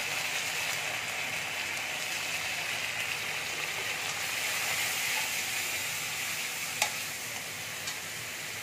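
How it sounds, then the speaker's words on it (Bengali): Spices with turmeric and Kashmiri chili powder fry in a pan for Lau Chingri, a bottle gourd and prawn dish, giving a steady, dense sizzle that holds throughout with one brief sharp crackle near the end. "দিয়ে মশলাটাকে ভালো করে ভেজে নেব"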